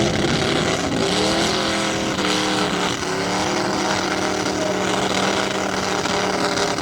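A Toyota pickup truck engine roars at full throttle during a tough trucks run, loud and continuous with rising and falling revs as it powers across a dirt course.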